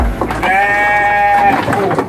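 Dorper and Garut crossbred sheep lambs in a livestock pen let out one long, loud, wavering bleat close by, with a brief rustle before it.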